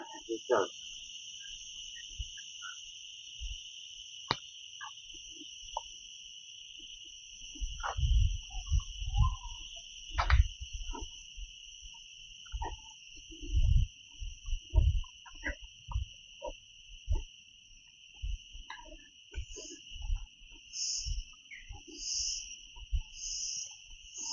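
Insects chirp steadily in a Western Ghats forest near a tribal village, a pair of sustained high buzzing tones running throughout, with scattered low thumps and rustles beneath and a pulsing call entering near the end.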